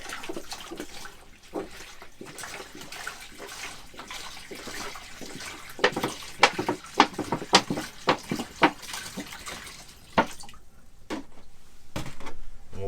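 Water from one-gallon jugs poured into the fresh water tank of a NuCamp 400 camper, a continuous trickling and glugging flow with sharper splashy gulps toward the middle, close and alone without speech.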